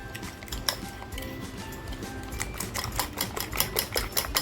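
Whisking a batter of cornflour and flour for a KFC-style homemade fried chicken coating, heard as quick, steady clinking and tapping of a whisk against a bowl that grows busier and more rhythmic toward the end.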